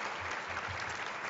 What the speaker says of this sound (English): how about a round of applause for the Air Service Development team?